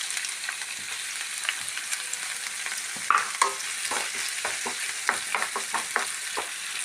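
Finely chopped onions sautéing in a pan, a steady close sizzle punctuated by repeated stirring scrapes and clicks of a spatula at an irregular rhythm.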